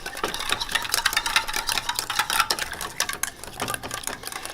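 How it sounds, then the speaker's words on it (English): A whisk beats a salad dressing seasoned with salt and pepper, making quick, uneven rhythmic clicking and scraping against the bowl, close and fairly loud, with no voices. "I'm just going to now just whisk it all together"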